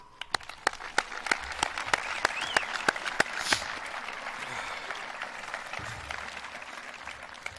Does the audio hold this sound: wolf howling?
no